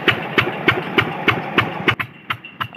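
A tractor engine running with its silencer removed, giving a loud, close, rapid pulsing chug with regular sharp exhaust bursts throughout.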